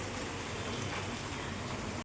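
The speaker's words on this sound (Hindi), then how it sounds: "ये है दिल्ली का मौसम। ये हो रही है बारिश" Steady rain pours in Delhi, a dense, even hiss of drops striking surfaces that stays loud and close for the whole stretch without a break.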